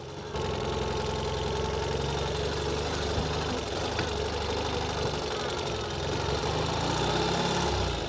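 A Ural Gear Up motorcycle engine runs steadily nearby, a continuous low, knocking idle rumble with even vibration throughout and no talking.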